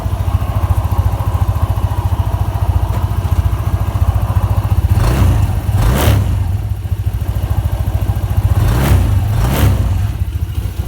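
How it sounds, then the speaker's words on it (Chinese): A Kymco Tigra 150 scooter engine idles after camshaft and rocker arm replacement, a steady close putter with rapid even pulses, briefly rising in a few quick revs near the end, no talking. "现在引擎声变很安静。"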